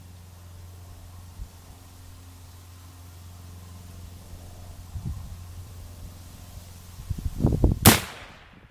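After several seconds of low outdoor rumble and a few soft thumps, a single loud, sharp rifle shot cracks near the end of the range session.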